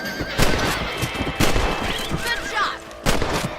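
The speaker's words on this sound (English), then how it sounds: "Better at shooting rabbits than outlaws, I see." Red Dead Redemption game scene with loud sharp gunshots fired at rabbits, several cracking bursts alongside a horse's whinny and nearby movement, with some game voice in the background.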